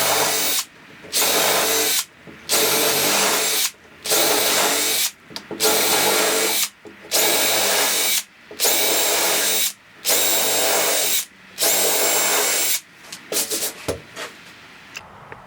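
An electric drill with a plastic conduit depth stop bores flat-bottomed plug holes in wooden hull planking, giving about eight loud whirring bursts separated by short pauses, each stopping abruptly.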